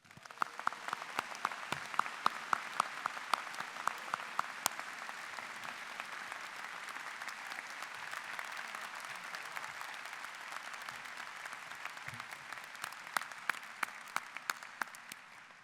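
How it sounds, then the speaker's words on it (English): Sustained applause from a large seated audience at a university freshman convocation, a dense, steady patter of many clapping hands filling the hall for about fifteen seconds and easing off slightly toward the end. "would you please join me in a round of applause for the class of 2020."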